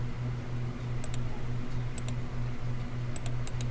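Crisp mouse clicks land singly and in quick pairs over a steady low electrical hum while a drawing is built in Inventor software on a computer.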